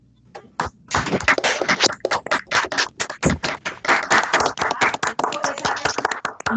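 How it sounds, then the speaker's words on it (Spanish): Participants in an online meeting clap over open microphones, a loose flurry of sharp, uneven hand claps from a few people that starts thinly, thickens, and continues in irregular bursts. "darles un fuerte aplauso a todo el equipo que participó el día de hoy"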